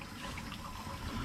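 Flushing water streams out of the telltale of a Yamaha F/FL 200 outboard engine, a steady, faint hissing trickle that runs on without a break.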